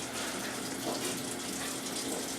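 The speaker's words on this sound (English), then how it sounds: "all I do is just fill my sink here with warm water" Warm water runs from a tap into a kitchen sink, a steady close gushing and splashing that holds level throughout with no talking.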